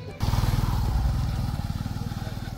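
A motorcycle close by on the road near Panchalingeswar Hill, its engine firing in a fast, even putt-putt that starts abruptly, stays loud and eases slightly toward the end.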